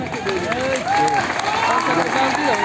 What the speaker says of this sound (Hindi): खूब ताली बजाइए